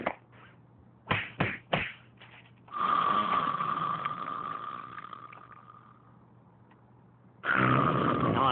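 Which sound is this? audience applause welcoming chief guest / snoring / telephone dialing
snoring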